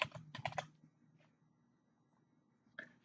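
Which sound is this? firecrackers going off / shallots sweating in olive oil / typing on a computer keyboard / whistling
typing on a computer keyboard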